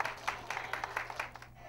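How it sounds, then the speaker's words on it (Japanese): Residents of a care facility clap for sumo wrestler Tokitenku as he arrives at a Setsubun festival, a faint, quick patter of many hands with sharp individual claps, no voices over it. "施設の利用者は大きな拍手で出迎えました"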